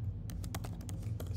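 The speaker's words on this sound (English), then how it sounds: "I'm typing this one." Quick, crisp keystrokes on a computer keyboard clatter close up in an irregular run of about a dozen taps over a steady low hum, with no talking.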